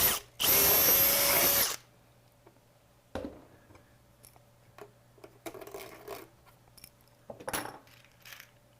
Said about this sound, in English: So in the third hole, I'll drill.